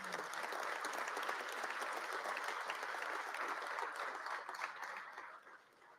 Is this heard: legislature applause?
yes